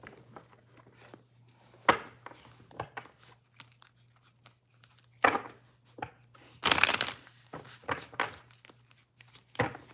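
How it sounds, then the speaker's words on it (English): A deck of cards is shuffled in scattered crisp riffles and flicks over a low steady hum, with one denser burst of rapid riffling near the end and quiet handling between. "Let me do a little shuffle here."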